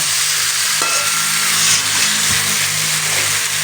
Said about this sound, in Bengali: এর মধ্যে যে মশলাটা আমি করে রেখেছি সেটা কিন্তু দিয়ে দেব